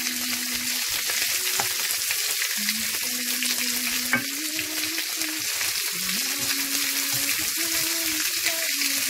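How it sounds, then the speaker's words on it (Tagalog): Garlic browning in a frying pan for pork hamonado sizzles and crackles steadily and close, with stirring scrapes and clinks over the constant fry, no voices. "masarap kasi pag i-brown natin yung garlic"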